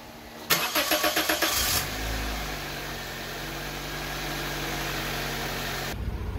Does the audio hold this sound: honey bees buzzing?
no